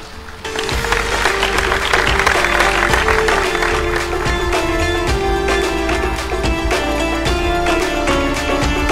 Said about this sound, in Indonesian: Tepuk tangan yang meriah untuk Pak Ismail, silakan Pak.